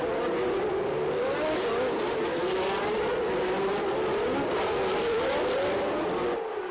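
Formula One race cars from the 1989 season roar through the tight Loews hairpin at Monaco, a loud continuous engine whine rising and falling in pitch as cars brake and accelerate, with a faint tire squeal.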